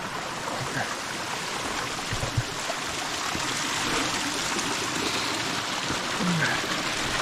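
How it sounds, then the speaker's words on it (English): Steady rushing water from a waterfall in an off-trail canyon in San Bernardino fills the scene, a constant broadband roar of falling water with no pauses, close and moderately loud. "Looks like there is some kind of waterfall"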